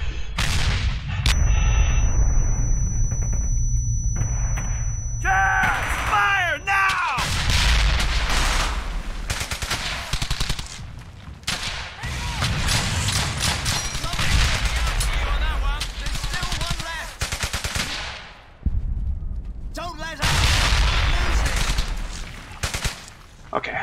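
Heavy suppressing gunfire in the World War II shooter Brothers in Arms: Hell's Highway, loud sustained rifle and machine-gun bursts with booming impacts throughout, broken by a few short pauses and overlaid with talking voices.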